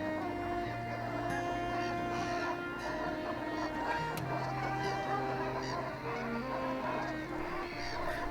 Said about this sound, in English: The massive flocks of Brent geese that overwinter in North Norfolk are an absolute delight